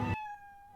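A cat meows once in the Professor Layton vs Phoenix Wright video game, a short bright call followed by a thin fading tone.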